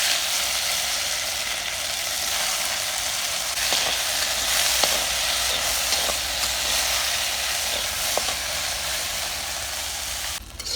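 Peeled taro (kochai) frying in oil in a pan, a loud, continuous close-up sizzle with a few faint clinks of stirring, ending with a brief shift in the noise.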